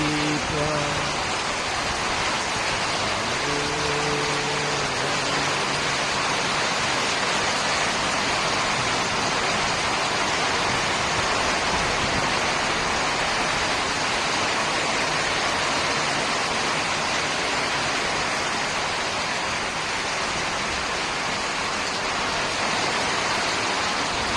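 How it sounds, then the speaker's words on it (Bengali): A mountain waterfall stream pours in the rain, a steady dense roar that fills the whole stretch without a break, with faint voices briefly at the start. "পাহাড়ের ঝর্ণাধারা"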